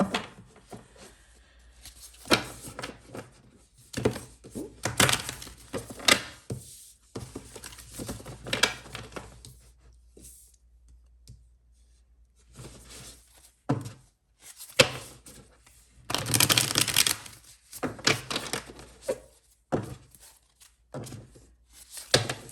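Tarot cards are shuffled and pulled by hand, with irregular papery riffles and soft thumps as cards land on a surface, close and intermittent with quiet gaps.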